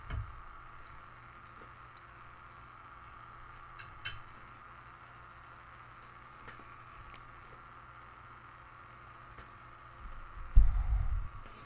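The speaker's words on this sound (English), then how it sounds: "That's just the fan running at max capacity." A struggling laptop fan spins at full speed while the machine runs OBS, giving a steady, faint whirring hiss with a low hum. It is close and constant throughout, with a brief louder knock near the end.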